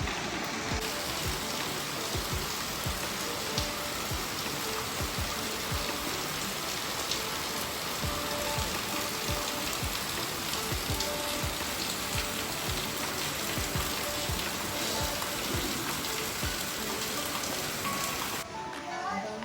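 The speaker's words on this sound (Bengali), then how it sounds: "তোমাদেরকে দেখায় যে কতটা জোরে বৃষ্টি হচ্ছে" Heavy rain pours steadily on surfaces outdoors, a dense, continuous patter and hiss that stays even in loudness throughout and stops abruptly at the end.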